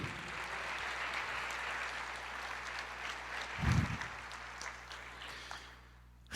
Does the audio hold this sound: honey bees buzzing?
no